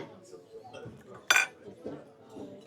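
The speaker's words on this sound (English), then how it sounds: "knocking her cutlery around everywhere" Cutlery knocks against plates at a Sunday lunch table, one sharp metallic clink standing out amid quieter clatter, with people talking around it.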